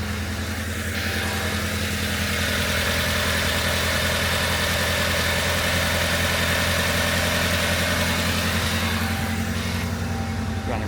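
Proton Satria GTi engine idling after a coil-on-plug conversion, shortly after a cold start: a smooth, even, continuous hum with a steady low throb, quiet and unbroken throughout.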